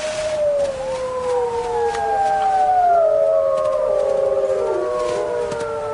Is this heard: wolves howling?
yes